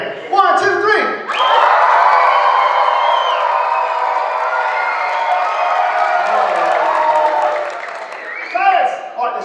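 Loud sustained cheering and whooping from an audience at a black belt martial arts show, erupting on cue after a short spoken countdown and holding for about seven seconds before dying down under a voice.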